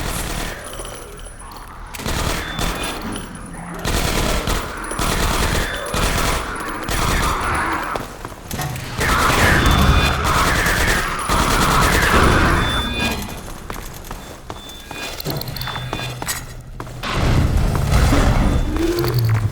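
Rapid bursts of turret gunfire in Half-Life 2: Episode One, loud repeated volleys with heavy thumps, carrying on through most of the stretch.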